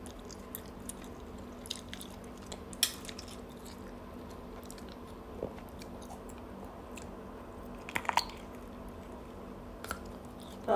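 Close-up eating of crunchy squid with garlic: quiet, sparse chewing with occasional crisp crunches and soft squishes over a low steady hum, no talking.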